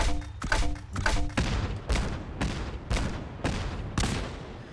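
A series of heavy, evenly spaced booming blasts, about eight in a row, from timed grenades exploding in Fallout 4, each loud thud trailing off before the next, with lighter clicks at the start.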